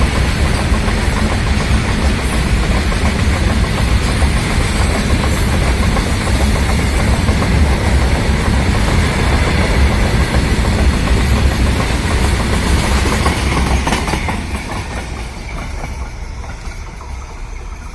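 A freight train passes on the railway line between Hubli and Mugad with a loud, continuous rumble and clatter. It stays steady and close, then eases off slightly near the end.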